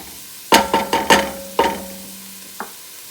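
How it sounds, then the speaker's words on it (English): Garlic and chopped leeks stirred in a pan, with several quick scraping strokes of a utensil over a soft sizzle, then a steady low hum and one small knock near the end. "So I'm gonna saute it for maybe 2 to 3 minutes"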